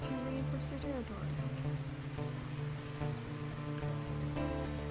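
Rain falls steadily in the wolf video game WolfQuest: Hope Creek on a dark night, a soft, even patter beneath a continuous hum of game music and ambience, with no pauses.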